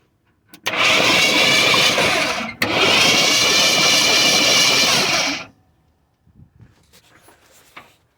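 The starter on a 1973 Ford F-250 engine cranks over in two loud, whirring bursts separated by a brief pause, then stops, leaving faint clicks and handling noises.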